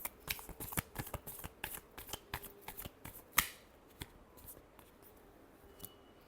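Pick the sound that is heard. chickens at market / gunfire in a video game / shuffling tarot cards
shuffling tarot cards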